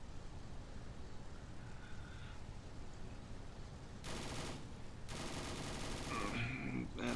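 Aircraft guns open fire during a dogfight in Kerbal Space Program: two loud bursts of rapid machine-gun fire cut through a quiet engine drone, the second longer and ending in scattered shots.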